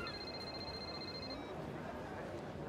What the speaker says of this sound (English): Our phone's ringing.